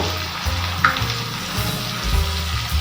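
Tomato and chilli powder sizzling and frying in a pan for thoor dal sambar, a steady close crackle with occasional stirring scrapes, no voices.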